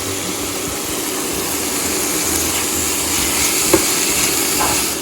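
Ground cumin, coriander and chili powder fry in a pan for a yogurt eggplant dish, giving a continuous close hiss and sizzle with faint scraping from stirring and no talk.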